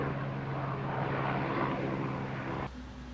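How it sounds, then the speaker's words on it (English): An airplane flies over a home garage workshop as a loud, broad engine roar with a low propeller hum, steady and close overhead, then the roar drops suddenly. "Every time I press the film button, plane flies over."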